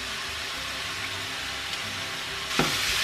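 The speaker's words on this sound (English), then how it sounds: "I'm gonna heat up some oil and fry a corn tortilla." A corn tortilla frying in hot oil gives a steady, even sizzle that holds throughout, with a soft splash-like crackle near the end and no talking.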